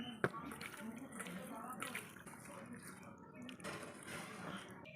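Coconut water poured over raw prawns coated in dry chili powder and mustard oil, making a soft, steady trickle and splash beneath continuous talking.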